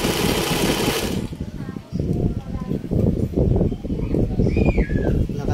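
A sewing machine stitches a zigzag in quick rhythmic bursts, close by, with faint bird chirps in the background.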